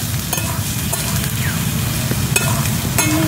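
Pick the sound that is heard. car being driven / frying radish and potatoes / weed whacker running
frying radish and potatoes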